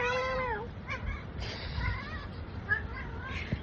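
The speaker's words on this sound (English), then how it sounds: "Kitty says hello." A cat meows several times up close, with rising and falling calls in quick succession and a person speaking quietly in the background.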